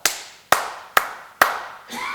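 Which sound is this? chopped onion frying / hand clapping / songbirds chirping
hand clapping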